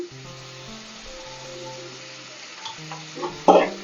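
Onions cooking in oil with salt in a pan give a soft, steady sizzle under a low hum, ending with a couple of louder clatters from a utensil against the pan.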